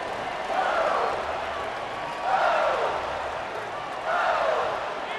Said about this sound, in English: they are on their feet, yelling, screaming